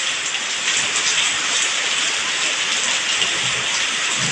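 Heavy rain during the Thailand rainy season, a dense continuous hiss of drops pattering on surfaces and a window, steady and close with no voices.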